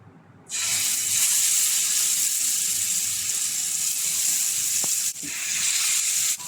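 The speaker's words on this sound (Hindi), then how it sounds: "मैं इसमें चिकन के पीसेस डालकर तलूँगी।" Chicken drumstick pieces hit two tablespoons of hot oil and set off a sudden loud, steady sizzle that keeps hissing evenly, with a brief dip near the end.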